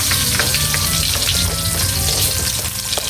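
Sliced onion and garlic sauté in a hot pan for a Filipino vegetable stir-fry, giving a loud, continuous close sizzle and crackle with faint stirring scrapes throughout.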